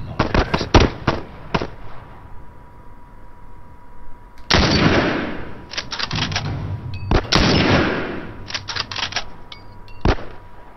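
Repeated gunshots from the video game The Last of Us, loud and sharp, fired in quick bursts early on, followed by two longer blasts with sustained echoing noise and scattered further shots.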